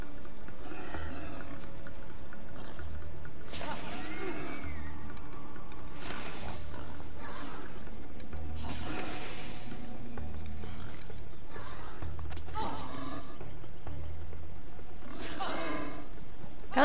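Short squealing pig cries in Assassin's Creed: Odyssey burst out every couple of seconds over a quiet background, loud and harsh, with brief talking in between.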